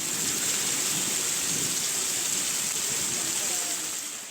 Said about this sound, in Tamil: பலத்த காற்று மற்றும் இடியுடன் கனமழை கொட்டியது